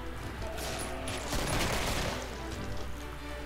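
Rifle fire in the video game Killing Floor, a dense, noisy burst of shots and crackling blasts that stays loud and close throughout, with overlapping game effects.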